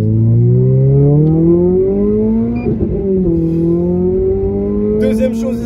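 A Renault Clio 3 RS engine winds up loud and close from inside the car, its pitch climbing steadily, then dipping briefly with a jolt at a paddle downshift before it revs on high again.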